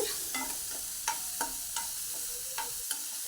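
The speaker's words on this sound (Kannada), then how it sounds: "ಈಗ ಕಟ್ ಮಾಡಿದ ಟೊಮೆಟೊ ಮತ್ತು ಕಾಯಿ ಮೆಣಸನ್ನು ಸಹ ಹಾಕ್ಕೊಂಡು ಅದನ್ನು ಸಹ ಫ್ರೈ ಮಾಡ್ತೇನೆ" Chopped tomato and green chilli frying in a pan for vermicelli upma, soft sizzling under a regular rhythm of a spatula scraping and stirring, about one stroke every half second, fairly quiet and close.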